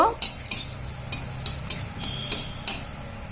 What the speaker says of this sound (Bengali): ফোড়নের জন্য দিয়ে দিচ্ছি শুকনো লঙ্কা, তেজপাতা আর জিরে। এটি 1 মিনিট ধরে নেড়ে নেব।